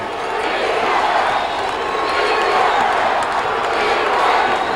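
Crowd of McKeesport fans cheering in a stadium during the 1994 WPIAL high school football championship against Upper St. Clair, a steady, loud roar of massed voices holding throughout.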